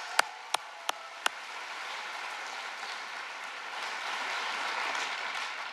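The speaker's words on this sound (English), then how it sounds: "So give yourself a round of applause." Audience applause at an 8th grade middle school graduation ceremony, opening with a few sharp isolated claps and then settling into a steady, fairly quiet wash of clapping that holds to the end.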